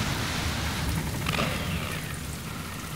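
Steady rain falling on a racetrack, a continuous even hiss of drops that fills the whole stretch without pause or voices.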